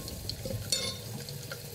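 Mustard seeds and asafoetida sizzling in hot oil in a clay pot, a soft continuous crackle with small pops and a brief clink.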